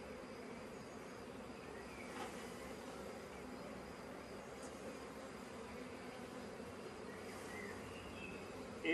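A primary honeybee swarm clinging to a tree trunk hums in a steady, dense buzz, close and continuous throughout, with no speech over it.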